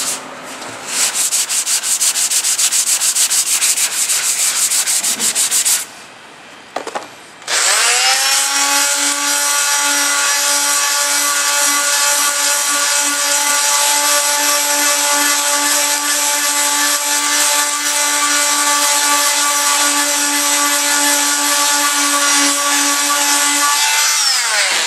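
Power sander grinding at a crack in a tank seam, with fiberglass over a brass braze, as a loud, close, continuous rasping whine that stops briefly near the start and then runs steadily.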